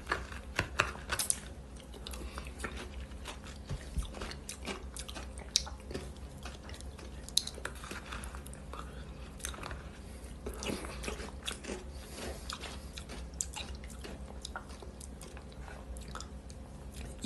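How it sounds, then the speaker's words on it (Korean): Close, quiet crunching as someone chews kkakdugi, cubed radish kimchi, eaten alongside gukbap, with irregular crisp bites and soft chewing clicks throughout and no talking. "지금 깍두기 씹는 거."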